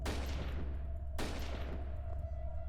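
Video game gunfire from a chainsaw clown game sounds as two faint, sharp shots about a second apart, each trailing off, with no voices.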